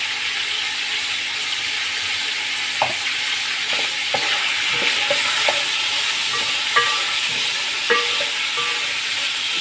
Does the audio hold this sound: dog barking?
no